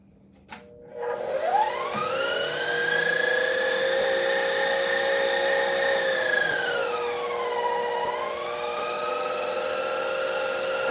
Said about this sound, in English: We're just going to grind up the meat.